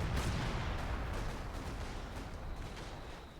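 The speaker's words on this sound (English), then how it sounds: "Counter battery artillery comes down on this mortar." Counter-battery artillery fire striking a mortar position in the video game Company of Heroes 2, a dense rumbling barrage of blasts that fades slowly over a few seconds, fairly quiet and with no talking.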